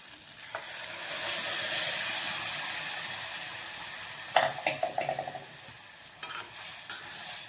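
Boiled lentils go into a pan of frying green chilli paste, turmeric and garam masala, giving a soft steady sizzle, then a quick burst of clinking, scraping stirring strokes near the end, with no voices.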